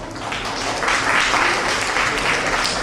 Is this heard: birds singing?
no